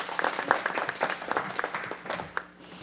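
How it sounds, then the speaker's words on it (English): People in the audience at a council meeting clap briefly, a short burst of scattered hand claps with some louder individual smacks near the front, tapering off quickly at moderate volume. "let's give them a round of applause for bringing them out."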